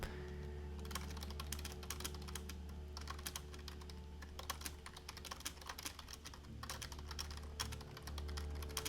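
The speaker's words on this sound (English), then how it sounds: "I know you can hear the typing" Fingers type on a computer keyboard in quick, steady clatters of keystrokes, faint and close over a low background hum, with no talking.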